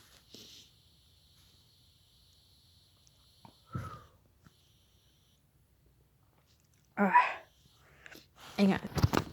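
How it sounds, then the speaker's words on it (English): A single sneeze bursts out after quiet breathing and sniffing, followed by a short strained vocal sound, all close and otherwise quiet. "that sneeze hurt"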